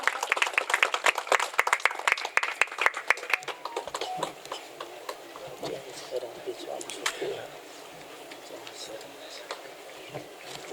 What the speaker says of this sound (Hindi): इनके सम्मान में एक जोरदार तालियां हो जाए